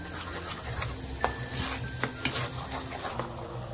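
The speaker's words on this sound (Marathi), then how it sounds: "आणि हे पण बॅटर छान हलवून घेऊया." Dhokla batter with Eno is stirred in a bowl, making soft wet rubbing and scraping, with a few sharp taps of the spoon against the bowl rim amid a low background hiss.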